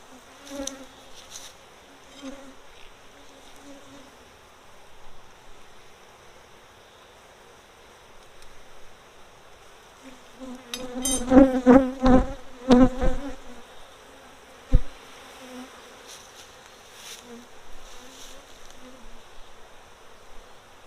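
Honeybees, with drones among them, drone steadily in a packed hive, a soft continuous hum that swells into a louder, busier buzz partway through before settling back, with a sharp knock in between.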